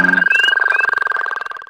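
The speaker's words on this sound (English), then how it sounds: "says ribbit, it's only calling to other Pacific chorus frogs" A single Pacific chorus frog call up close: a loud, rapidly pulsed, raspy croak that trails off after under two seconds.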